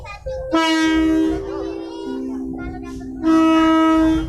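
A loud train horn on a passenger train in Lampung blares in long sustained blasts from very close by, pausing briefly before sounding again.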